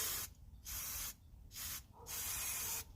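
Spray adhesive hisses from an aerosol can onto decoupage paper for furniture in four short bursts of varying length, separated by brief quiet gaps, close and alone.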